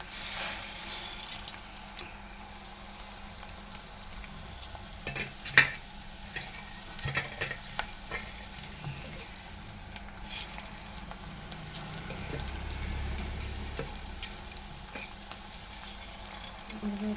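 Moong dal frying in hot oil in a pan, a soft continuous sizzle broken by occasional spoon scrapes and light clinks, close and moderately quiet.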